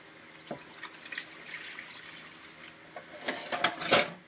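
Warm water is poured into a bowl of sugar for crockpot bread dough, soft trickling and splashing at low level that grows louder and choppier toward the end.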